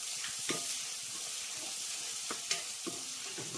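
Turmeric and salt being stirred into Andhra-style boti curry frying in a pan: a steady close sizzle with a few sharp spoon scrapes and clicks against the pan.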